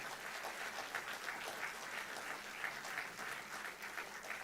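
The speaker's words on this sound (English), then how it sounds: "They need applause for it." Sustained applause from an audience at a valedictory ceremony for a graduating batch of Indian Revenue Service officer trainees, a steady dense patter of many hands, fairly faint and distant throughout with no talk over it.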